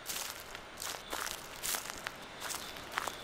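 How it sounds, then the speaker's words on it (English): Footsteps in a horror video game: a run of about six even, crunchy steps, close and clear with no talk over them. "I hear footsteps."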